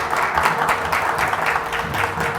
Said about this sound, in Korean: 여러분 박수로 환영을 해주십시오.